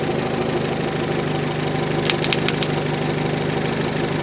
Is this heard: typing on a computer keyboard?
no